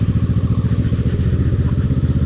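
A Kawasaki ER6F Ninja 650cc parallel-twin motorcycle being ridden, its engine a loud, steady, close rumble with an even rapid pulse and no talking over it.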